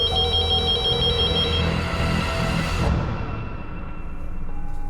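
A telephone rings in a tense crime-drama scene, its steady electronic ringtone repeating clearly for several seconds over a low musical bed, with no voices.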